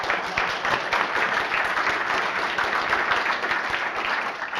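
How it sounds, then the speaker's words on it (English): A conference audience applauds at the end of a talk, a dense and even patter of many hands clapping, loud and close and steady throughout. "So that's the end. This is where you clap."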